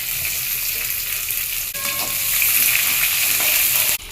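Steady, dense sizzling of onions frying in hot oil with curry leaves and dried red chillies for a banana stem stir-fry, with occasional stirring scrapes, close and fairly loud throughout.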